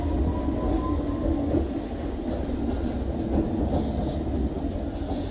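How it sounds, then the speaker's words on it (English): London Underground Circle Line train running through the tunnels, a steady loud rumble and rattle of wheels and carriage throughout, with faint squeals, no talk. "This is a Circle Line train via Liverpool Street and King's Cross and Pancras."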